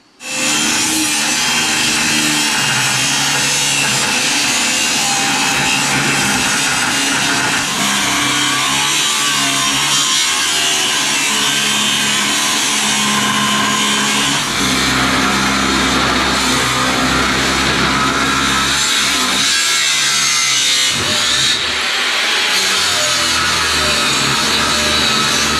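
A power tool saws through metal to cut out a section for a new front linkage, a loud, harsh, continuous grinding rasp held close for a long stretch with slight changes in pitch, and no voices.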